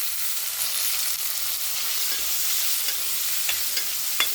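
Tomatoes fry with green chili in a pan for a Tamil fish curry, a continuous soft hiss of sizzling oil with faint scraping stirs near the end.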